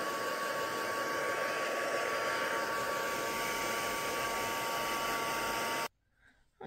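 A handheld dryer blows a steady, loud, close rushing hiss over a Christmas tag craft project for nearly six seconds, then cuts off abruptly into near silence.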